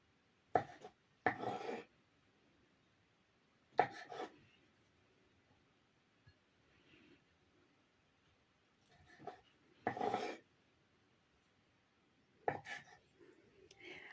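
Knife cuts on a board as boiled chicken hearts are halved, coming in short isolated clusters, a few sharp chops separated by quiet pauses.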